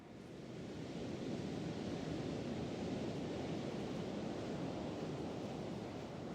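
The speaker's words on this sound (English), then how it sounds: "the pounding waves crashing up the beach" Ocean surf pounds a fine volcanic black sand beach in Iceland, a steady broadband roar of crashing waves that swells in at the start and stays constant, heard alone.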